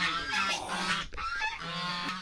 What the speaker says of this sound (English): and there are lots of goose.